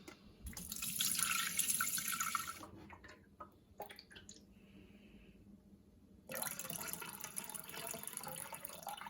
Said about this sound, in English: put 1500 grams of water into the mixing bowl